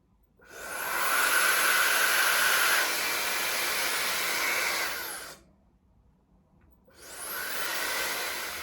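A Yitrust hair dryer blowing with a loud, even rushing whoosh for about five seconds, cutting off abruptly, then starting again after a short pause.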